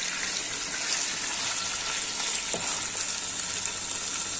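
Loud, continuous sizzling and frying of chicken and liver in a hot pan, a steady crackling hiss with occasional stirring scrapes, no talking.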